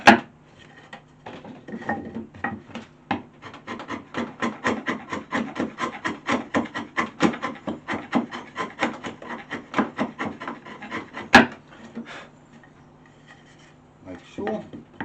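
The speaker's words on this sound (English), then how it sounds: "Once again with a chisel. Just clean them up." A chisel scrapes along wood joints to clean them up, a long series of rapid, rhythmic rasping strokes, close and steady, tapering off near the end.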